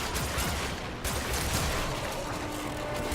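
Rapid, continuous bursts of gunfire with mechanical clatter from the Vastos revolver in Warframe, loud and dense, with a brief gap partway through.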